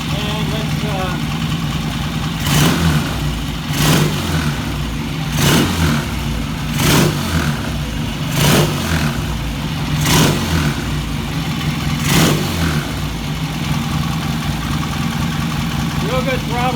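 A vintage British motorcycle engine idles with a throbbing, uneven rumble, revved in repeated short bursts at regular intervals, up close and loud.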